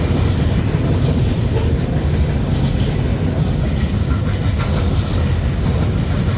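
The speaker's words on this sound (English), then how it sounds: "Here comes our mid-train DPU." A freight train with a mid-train DPU locomotive passes close by in Sioux City, a loud, unbroken rumble with wheel clatter and rail noise that holds steady throughout.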